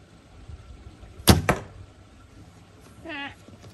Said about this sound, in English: So the bow sounds very nice. It's a very dark sound.